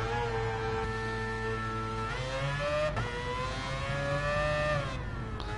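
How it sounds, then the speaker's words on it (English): A rotary engine revs and winds up repeatedly with a high, buzzing whine, gear shifts breaking the climbs, loud and continuous in the racing game GT Sport. "that is the noise of a rotary engine"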